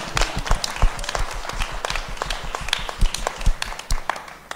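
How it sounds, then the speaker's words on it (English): Audience applause at an evening talk and pitching event, a fairly close, steady patter of many hands clapping for several seconds. "Round of applause to everybody."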